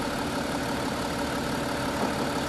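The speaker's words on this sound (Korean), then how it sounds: "디젤 특유의 소리가 들리긴 하지만 부드럽고 조용합니다" An Audi A7 55 TDI V6 diesel engine idling after startup, a quiet, even, smooth hum with a faint diesel clatter running steadily with no talk.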